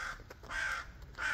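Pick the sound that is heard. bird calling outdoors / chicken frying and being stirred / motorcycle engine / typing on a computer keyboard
bird calling outdoors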